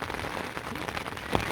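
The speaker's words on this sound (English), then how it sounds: "It's entirely possible this rain will just continue for the next 2 days solidly with no let up" Rain falls steadily on a coastal hiking path near Exmouth, a dense, even patter throughout with one sharper tap close by near the end.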